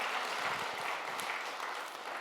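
Church congregation at a Christmas Day service applauding warmly, a dense, steady wash of many hands clapping throughout, fairly distant and even in level with no one speaking over it.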